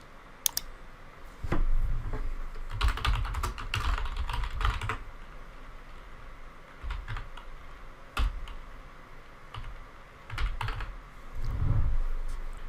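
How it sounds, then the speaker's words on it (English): Someone types a name and date on a computer keyboard, producing close, irregular clusters of key clicks and taps in a quiet room with no talking. "by typing my name and date below"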